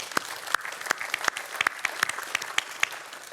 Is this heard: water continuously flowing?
no